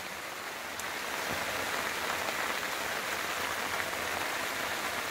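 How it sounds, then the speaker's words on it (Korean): Steady monsoon rain drums on a rain shelter set up over a pepper field in a vegetable garden, a dense continuous patter with no wind, holding an even level throughout. "장맛비가 시작이 됐습니다"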